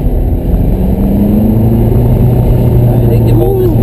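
Ferrari engine droning loudly and continuously on the track at Candlestick Park, pitch shifting as the throttle eases through a 90-degree left-hand corner, heard from inside the car under speech.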